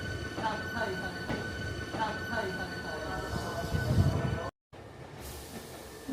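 Inside a train at Katsura station in Japan, a steady low rumble of the carriage hums throughout with faint rhythmic wheel clatter, cut by a brief dropout near the end.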